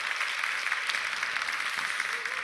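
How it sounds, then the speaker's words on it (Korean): A church congregation at a young adult prayer meeting claps together for the people beside them, a soft, even wash of applause that holds steady throughout, heard from a slight distance. "우리 옆에 있는 분에게 박수 치시려면 치세요."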